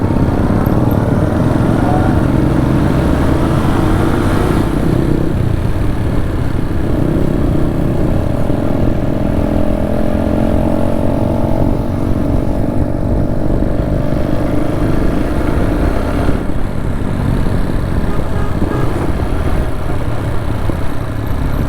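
A motorcycle engine idles and revs at a bike stunt session with friends, a steady mid-pitched drone that rises and falls through changes in throttle, close and loud throughout with no talk.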